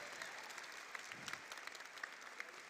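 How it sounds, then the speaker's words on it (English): Faint, distant audience applause at a Devcon VI main-stage event in Bogotá, a thin wash of clapping with a few sharper claps standing out near its end. "another round of applause"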